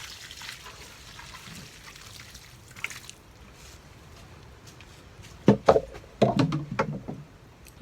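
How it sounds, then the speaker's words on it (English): Garden hose water spraying onto allotment soil near basil and tomato plants, its flow shaped by fingers; a soft steady trickle gives way to louder bursts of splashing and churning in the final seconds. "You can use your fingers to change the flow of the water, which is quite handy."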